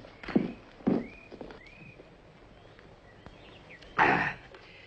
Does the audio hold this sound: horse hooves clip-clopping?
yes